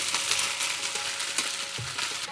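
Vegetable biryani ingredients cooking in a pan, with a steady, dense sizzle and frying crackle throughout and a few brief stirring knocks, close up, with no voices.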